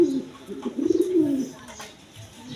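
A pair of crested ghiya-shulli pigeons kept with their chicks coo in low, throaty rolling phrases, close and clear, with a faint voice in the background.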